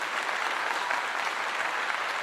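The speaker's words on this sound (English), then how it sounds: "Everybody gets a good clap" A crowd gives steady, dense applause, even and continuous throughout the short stretch with no gaps.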